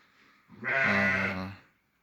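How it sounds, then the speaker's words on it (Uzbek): A single drawn-out bleat from a young sheep, close and clear, rising out of near silence and trailing off. "bu yog'ida boladan ajragan qo'zilar."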